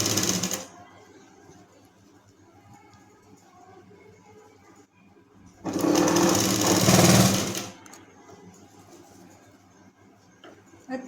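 A sewing machine stitches a fabric strip, with margin left, onto a Fuga Bahi (balloon sleeve), running in two loud bursts, a short one at the start and a longer one in the middle, with quieter room sound between.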